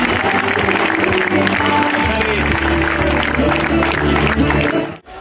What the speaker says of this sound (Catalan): En Xavier Llamas, fort aplaudiment